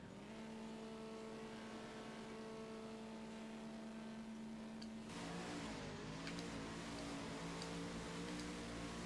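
A video-game drag racing car with a Pro Mod engine drones at steady high revs with a strong harmonic whine, then shifts to a rougher, higher pitch partway through, with no voices.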